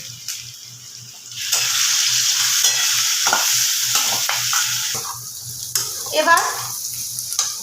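Whole garam masala spices, with cashews and melon seeds, frying in a pan, giving a steady sizzle with scraping stir strokes; a low hum sits underneath, and no one speaks.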